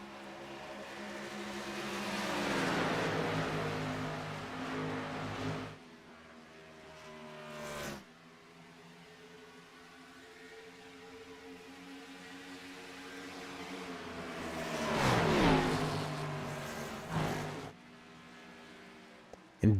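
Engines of stock cars in a video game Cup Series race, a Gen 6 championship night at Homestead, swell and fade in loud passes with a sharp rise near the end, without talk.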